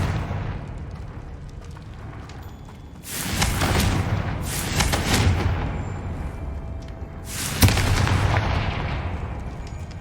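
Confringo explosive spell going off in the video game Hogwarts Legacy: three loud booming blasts with crackling tails, the first at about three seconds, a second close behind and a third near the end, over a steady ambient bed.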